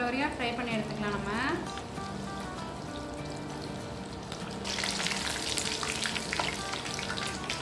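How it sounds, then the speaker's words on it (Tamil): Chicken pieces frying in hot oil for a Japan-style creamy chicken dish, giving a steady loud sizzle throughout with tonal voice-like traces over it and a brighter crackle in the second half. "நல்லா கோல்டன் ப்ரௌன் ஆகிற வரையும் ஃப்ரை பண்ணி எடுத்துக்கலாம்"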